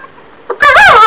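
A loud, close fowl call from a chicken in an online battle-royale video game, a single brief squawking burst after a faint click.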